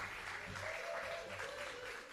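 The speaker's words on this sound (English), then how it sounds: "Give him a little clap" Audience at the official opening of the Kingsland plastic recycling depot in Jamaica gives a brief burst of clapping, steady and moderately faint, with no voices heard over it.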